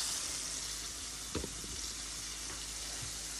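Chicken wings for Jamaican Spanish-style fried chicken fry in oil in a pot, giving a constant crackling sizzle with a brief clatter partway through and a few faint pops, with no talk.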